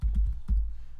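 Typing on a computer keyboard while entering Linux terminal commands: two short bursts of dull, close keystrokes, each quickly fading.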